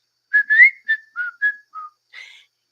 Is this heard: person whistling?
yes